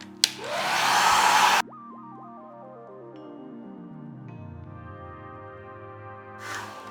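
A handheld heat tool blows a loud, steady whoosh for about a second and a half while warming chocolate in a mold, then cuts out abruptly, leaving a descending electronic tone; a brief second burst of air follows near the end.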